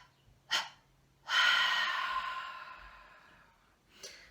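Panting breaths in a singing warm-up: two short sharp exhalations around a longer, sustained breath out that fades gradually, close and clear, no other sound.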